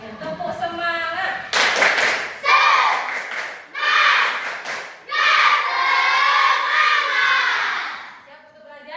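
A classroom of schoolchildren performs a rhythmic spirit clap, bursts of unison clapping alternating with loud chanted and shouted voices in a patterned call-and-response, lively and close with brief pauses between phrases.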